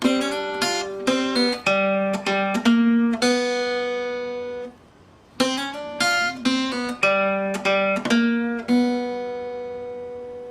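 A guitar plays a blues riff alone, with sharp plucked notes in quick clusters, long ringing tones and a brief pause midway before the figure repeats.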